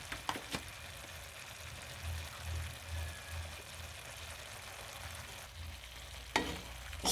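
Mixed vegetables sautéing in a pan make a soft, steady sizzle, with intermittent scraping and stirring and a couple of sharp utensil knocks against the pan, heard quietly and alone.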